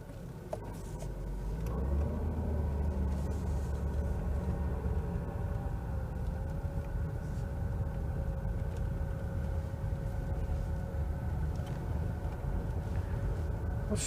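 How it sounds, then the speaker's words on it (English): An American-spec Volkswagen T4 Eurovan pulls away and cruises past an industrial site, its engine a steady, close, low rumble with a faint whine riding over it throughout. "now you can join me on a drive from a different angle"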